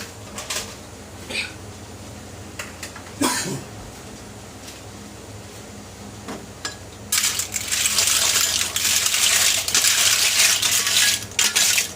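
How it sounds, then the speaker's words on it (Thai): Clams dropped into a pot of boiling water for blanching, a few clattering knocks and splashes followed by a loud, sustained rushing boil close by with no talking. "น้ำก็เริ่มเดือดแล้วนะครับ เราก็หอยมาลวกกันแล้วเนยครับ"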